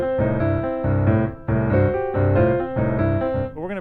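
A blues piano eighth-note bass line played at a quicker tempo, with steady repeating chordal phrases in loud, close, even bursts and a short sliding run at the end, without talking.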